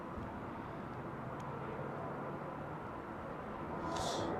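A steady, broad roar of an aircraft approaching a runway at London Heathrow holds across the whole stretch, distant and even, with a slight swell near the end.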